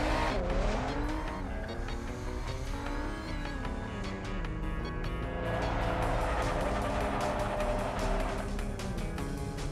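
Animated race car drifting in Cars 2: The Video Game on Xbox 360, its engine revving loudly with sustained tire squeal and skidding that swells midway, alone over continuous game music.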